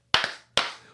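Two sharp hand claps ring out close and clear, spaced about half a second apart, each with a short reverberant tail and no talking.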